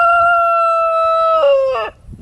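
A backyard rooster crows once, near and loud, a long sustained call that bends and breaks at the end, with faint farmyard noise under it.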